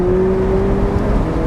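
A McLaren 675LT Spider MSO Carbon Series V8 holds a steady, loud engine drone with a sustained tone after a downshift, rumbling evenly throughout with no talk.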